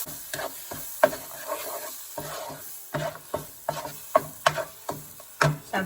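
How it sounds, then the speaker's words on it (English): Thick ground fig mixture sizzling in ghee in a pan over medium heat while being stirred, with repeated scraping strokes of a spoon at an uneven rhythm, close by. "And we're going to fry it with the ghee."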